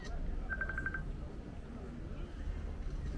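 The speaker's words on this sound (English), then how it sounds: "Oh, I'm getting a phone call right now." Phone ringing with an incoming call, a short bright burst of rapid repeated electronic chirps, moderately loud, over a low background rumble and some breathy noise.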